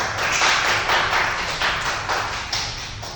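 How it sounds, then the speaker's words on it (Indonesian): A classroom group claps hands together in a dense, steady burst of applause that carries on evenly, loud and close, with no talking over it. "Tepuk tangan semuanya."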